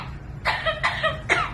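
A parrot imitates a human cough, three short raspy coughs in quick succession, close and clear.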